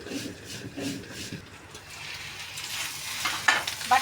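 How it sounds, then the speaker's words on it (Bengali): Teasel gourd leaves being stir-fried in a pan, a soft sizzle with scraping stirring strokes, fairly quiet and alone, with a few sharper clinks near the end. "পাতাটাকে ভালো করে উল্টিয়ে পাল্টে ভাজা ভাজা করে নেব"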